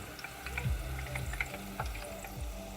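Homemade potato fries frying in oil at a lower temperature, a steady close bubbling sizzle with occasional crackles and a few clinks of stirring, no talking.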